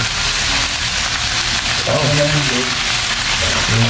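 Loud, steady sizzling and crackling of food frying in a hot pan, with faint bubbling pops throughout.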